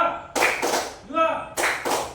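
A classroom group claps to a counted rhythm, two bursts of sharp claps, then a short spoken word, then two more bursts, close and fairly loud in a room.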